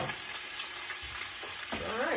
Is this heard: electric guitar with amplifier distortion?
no